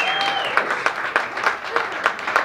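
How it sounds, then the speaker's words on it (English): Scattered clapping from a comedy club audience, a few sparse rhythmic claps rather than a full ovation, heard near and fairly loud with a voice briefly over the start. "Should give me a cheap, obvious round of applause."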